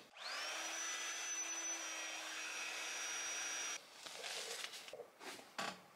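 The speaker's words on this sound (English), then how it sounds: "And then I'm going to blow dry on a hot setting." A hair blow dryer on a hot setting, used while installing a glueless pre-cut curly closure wig, spins up and roars with a steady high whine for several seconds, then cuts off, leaving faint handling noises.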